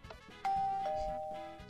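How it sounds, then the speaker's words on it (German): A doorbell rings twice in a Minecraft game, two bright sustained chime tones overlapping over a busy background of game sounds and music. "Ein Klingelstreich? Oh Leute, die klingen immer noch."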